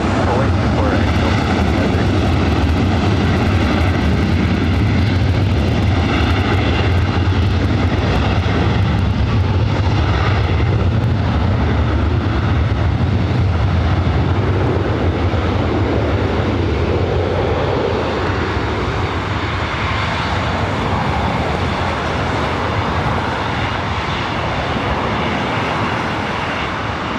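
A loud airliner takes off from runway 24 right at LAX, its jet engine roar steady and close for the whole stretch, with faint radio chatter mixed underneath.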